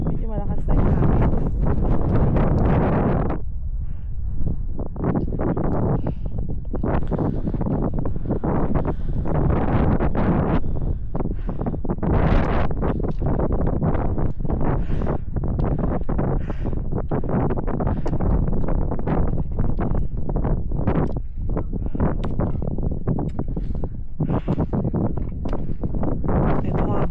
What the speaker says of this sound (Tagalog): Medyo malakas na yung hangin.